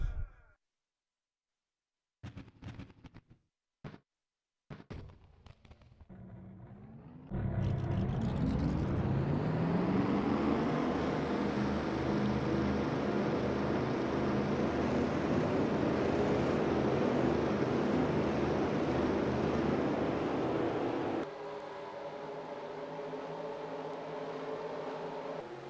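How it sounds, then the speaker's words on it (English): Racing-game stock car engines for a 42-car Cup Series field at Michigan fire up together after a few sharp clicks, swelling into a loud, sustained multi-engine roar that eases slightly near the end. "Drivers, start your engines!"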